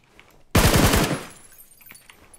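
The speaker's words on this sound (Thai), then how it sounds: "เฮ้ยมันยิงใครวะ" Gunfire in the shooter game PUBG, one sudden rapid automatic burst of several shots lasting about half a second, loud and close, then fading into quiet.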